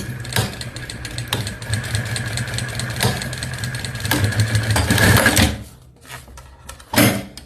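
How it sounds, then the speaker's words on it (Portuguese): A sewing machine runs in a fast steady stitching burst for about five seconds while sewing a mini backpack, then stops, leaving a few faint handling clicks and a short knock at the end. "Aí eu venho e passo a minha costurinha."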